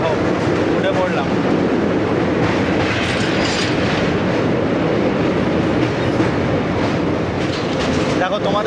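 Crossing the Kolaghat rail bridge, the Santragachi to Digha train keeps up a heavy, continuous rumble with rhythmic clickety-clack of wheels over rail joints, loud and close for the whole stretch.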